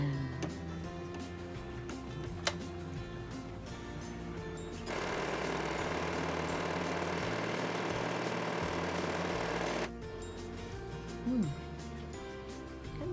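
A Sew Simple sewing machine fitted with a side cutter foot and no needle runs for about five seconds in an even mechanical hum, framed by quieter clicks and handling, with a voice speaking briefly nearby.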